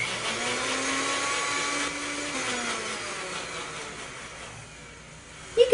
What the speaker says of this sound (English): blend until the milk is pretty smooth.